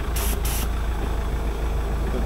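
A heavy tractor engine idles with a steady low rumble, loud and close, with two brief bursts of hissing noise near the start.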